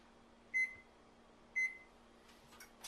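An oven control panel beeps twice, evenly spaced about a second apart, clear tones over a quiet kitchen hum as it is set to broil, with faint rustling at the end.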